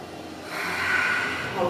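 An instructor takes an audible breath in through the nose during a beginner, no-jump HIIT workout, a close, soft rush of air lasting about a second.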